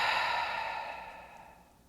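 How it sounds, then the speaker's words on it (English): A long, slow breath exhaled through an open mouth during a bedtime yoga breathing exercise, one steady airy breath that starts strong and fades gradually over about two seconds, close and alone. "take a nice long exhale out the open mouth"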